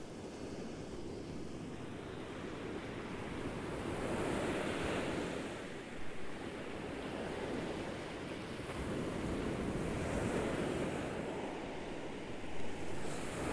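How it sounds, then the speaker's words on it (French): Ocean waves rolling onto the shore in slow swells, a broad continuous roar rising and falling, mixed with some wind. "Si vous entendez bien le bruit des vagues derrière moi"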